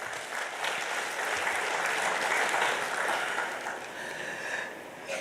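Steady applause from a convention audience of cost and management accountants fills a large hall, a dense, even wash of clapping that swells slightly mid-way and eases toward the end, with no talk over it.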